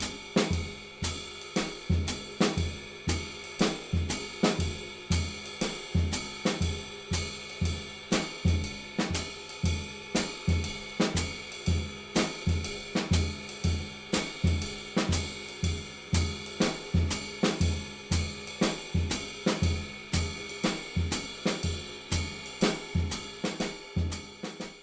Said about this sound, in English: So any eighth notes are going to be in the snare drum, and any quarter notes are going to be in the bass drum.